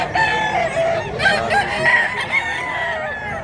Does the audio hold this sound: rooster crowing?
yes